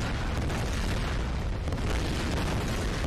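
A loud, dense, roaring rumble of an explosion in the video game Tomb Raider fills the whole stretch without pause.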